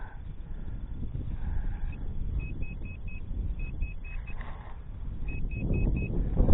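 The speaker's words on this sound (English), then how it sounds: "Grab the pinpointer. See if we get a signal on that." A metal detecting pinpointer sounds repeated short electronic beep bursts in three groups, clear above steady outdoor wind and road-traffic rumble.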